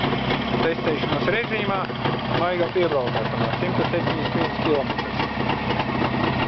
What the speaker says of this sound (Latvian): Motors ļoti labi rūs, ļoti labi pat pretīgi klausīties.